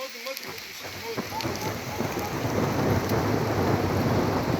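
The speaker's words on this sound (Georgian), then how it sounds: "რა ჭექაქუხილია ისმის" Thunder rumbles low beneath steady, dense rain, the storm building louder through the clip; a voice is faintly present.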